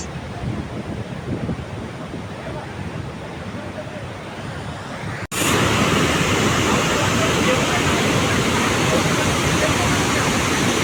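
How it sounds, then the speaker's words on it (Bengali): Usri waterfall on the Usri river near Giridih, Jharkhand, a continuous broadband rush of falling water that jumps suddenly louder and closer midway through, with wind buffeting the microphone. "এই সেই উষ্ট্রি নদী আর এই সেই উষ্ট্রি ওয়াটারফলস।"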